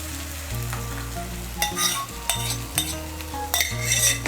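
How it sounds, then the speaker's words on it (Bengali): Sour yogurt is poured into a sizzling spice mix in a pan for a Bengali jackfruit-and-yogurt curry; steady loud frying hiss runs throughout, with sharp spoon-and-pan scrapes and clinks from stirring, and no talking. "এর মধ্যে আমি এখন টক দইটা দিয়ে দিচ্ছি।"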